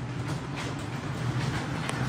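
A small toy ride train at a park in Someshwar gives off a steady low rumble with faint rattling, continuous and moderately close throughout, with no voices.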